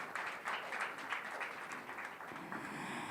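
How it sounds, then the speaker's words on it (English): Audience applause after the speakers at a design symposium: a steady, dense wash of many hands clapping, moderately loud and sustained throughout with no voices on top. "Let's give a round of applause to all of our speakers and our moderator today."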